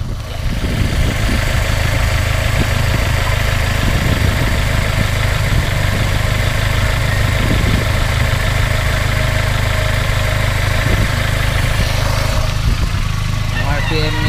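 A small engine idles steadily and loudly while its air-fuel mixture screw is adjusted, the RPM climbing slightly; a person talks over the continuous running.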